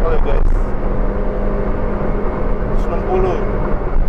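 Honda BR-V at full throttle, its engine droning steadily and loudly from inside the cabin with constant road rumble, while a voice talks over it.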